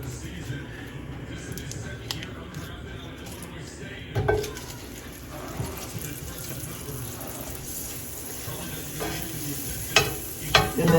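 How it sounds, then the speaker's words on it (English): Unsalted butter melts in a skillet on the stove with a low, steady sizzle, broken by a few pan clanks and handling knocks, quiet and close with no talking. "We're going to put a tablespoon of unsalted butter in the pan"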